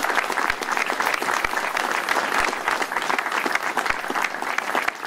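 Steady, dense applause from a large audience, continuous and fairly loud throughout with no voices standing out.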